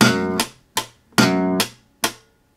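Slapped electric bass strings produce a rhythmic pattern of percussive thumps and pops, long ringing notes alternating with short snappy hits, close and clear with no talking.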